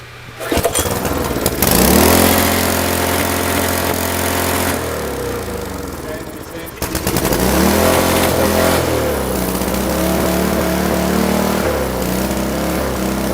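Small single-cylinder engine fitted with a transparent carburetor starts and runs at wide-open throttle, a loud buzzing drone like a lawn mower that dips, cuts out briefly, and roars back.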